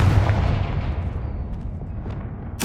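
A Confringo fire spell blast in Hogwarts Legacy, a loud booming burst with a rumbling tail that fades over a couple of seconds, followed by a sharp bright crack at the end.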